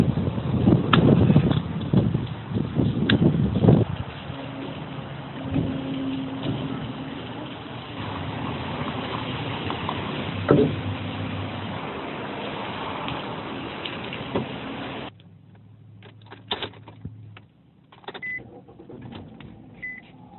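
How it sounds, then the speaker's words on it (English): Steady wind buffeting and rain hiss fill the first fifteen seconds, then give way to a quieter, muffled interior with faint knocks. "it's currently raining here and it's super windy"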